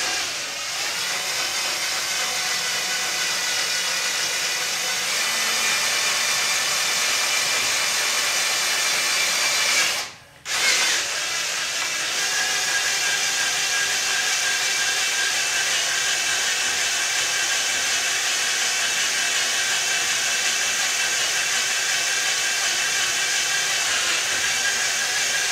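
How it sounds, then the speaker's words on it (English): A power drill bores steadily through wood during restoration of an 1865 Forster & Andrews pipe organ, a loud continuous whine that stops briefly midway before resuming, with no talking. "all I'm doing is drilling to feel the point, and then we'll drill from the other side"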